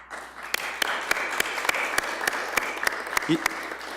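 Steady audience applause fills a CPS Board of Education meeting room, continuous clapping with a few sharp, louder claps standing out near the microphone.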